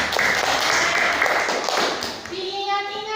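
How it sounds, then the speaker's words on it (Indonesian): A classroom of children claps for a group of students, with brisk close clapping that fades as a voice and a short tone come in near the end. "Beri tepuk tangan dulu untuk kelompok"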